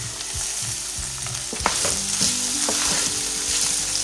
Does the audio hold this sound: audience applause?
no